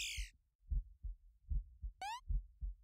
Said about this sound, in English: And the heartbeat in my ears